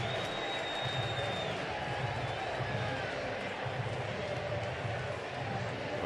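A baseball stadium crowd awaits play at an NLDS playoff game in October 2012, a broad, steady roar of distant murmuring and scattered cheers throughout.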